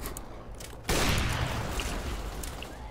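Desert Eagle pistol fire in a video game: a sharp, loud burst that starts abruptly and decays into a sustained noisy tail, with no talk.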